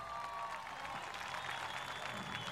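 A crowd applauds at a political event in Venezuela, a steady, moderately distant wash of clapping with a faint voice underneath.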